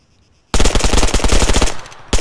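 A burst of rapid automatic gunfire in the video game Altis Life starts abruptly after a brief silence, loud and close, with rattling shots for over a second, a short pause, then another shot at the end.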